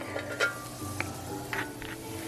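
Garlic, three cloves, drops into a hot pan while cooking rasta pasta, giving a faint, steady sizzle with a few light clinks and stirring scrapes close by.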